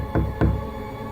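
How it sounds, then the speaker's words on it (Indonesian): Two firm knocks on a door, close and solid, spaced evenly, followed by quiet. "Tak lama muncul lagi suara ketukan pintu."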